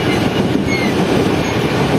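The Pak Business Express passenger train runs between Karachi and Lahore with a loud, close, continuous rumble and rattle of wheels on track, steady throughout.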